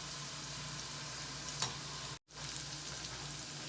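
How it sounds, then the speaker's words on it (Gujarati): Bitter gourds deep-frying in oil over medium heat for a Gujarati cashew-karela dish give a steady, close, dense sizzle with one brief sharp crackle, cut by a short moment of silence near the end. "કારેલા આપણે મીડિયમ તાપ ઉપર રાખી અને ક્રિસ્પી કરવાના છે"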